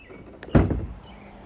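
An UnderCover Ultra Flex hard tonneau cover on a truck bed is folded over, giving one solid thunk followed by a short rattle, close and alone against quiet background.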